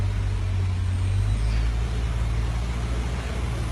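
A slow safari truck on an Orlando, Florida reserve rumbles steadily at low pitch, a constant close engine drone that barely changes as it pulls away, with no talking.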